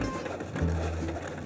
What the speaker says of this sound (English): This is cutting faster than it takes me to check my mail.